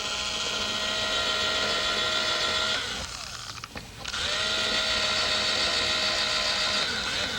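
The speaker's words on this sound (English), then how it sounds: "we're going to drill 3 holes directly down" A power drill fitted with a 3/32 inch bit bores holes into a model radio-control airplane, its steady whine running, dropping away briefly, then rising again and holding close and loud.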